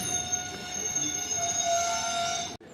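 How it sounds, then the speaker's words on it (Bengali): A passenger train with sleeper coaches rolls out of Sagardighi railway station, a continuous loud rumble of wheels on rails with sustained high metallic squeal tones, ending abruptly. "ফাইনালি ট্রেনটা ছেড়ে দিল সাগরদিঘি রেল স্টেশন থেকে"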